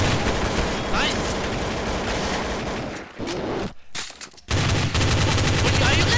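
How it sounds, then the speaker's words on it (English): Rapid gunfire from an online multiplayer Counter-Strike: Source match rattles in dense, continuous bursts, dropping out briefly midway before the shooting resumes at full loudness. "are you guys shooting at each other?"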